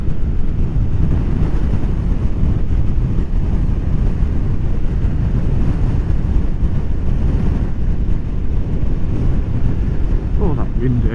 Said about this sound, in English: Oh, that wind, eh?